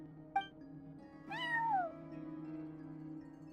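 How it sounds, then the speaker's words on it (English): A cat meows in the video game Genshin Impact, giving one short chirp followed by a drawn-out, falling meow, both clear and close over a steady background music drone. "No one except for a cat watching over the front desk. Excuse... meow?"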